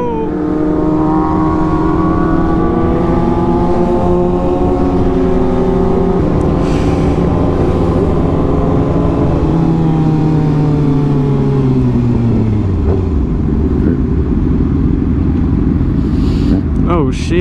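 Dodge Hellcat revving loudly close by at a car meet, its engine pitch rising and falling in sweeping pulls over a continuous roar, with crowd noise in the background.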